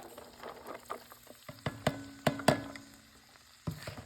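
Onion frying in a pan while preparing a white cheese chicken lasagna, a soft steady sizzle broken by several sharp clatters and stirring knocks of a utensil against the pan, close by with no talking.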